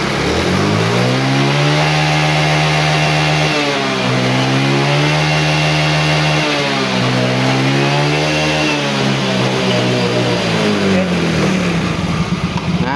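Yamaha Mio J scooter engine, fitted with a new fuel pump, revving loudly and repeatedly with rising and falling pitch, close up, over roughly thirteen seconds with no talk.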